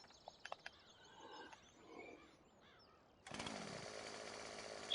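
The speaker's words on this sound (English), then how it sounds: "Steel chainsaw. My favorite." A Stihl chainsaw in the Farming Simulator 17 video game starts up abruptly partway through, a loud steady buzzing drone that continues to the end, after a stretch of quieter scattered game sounds.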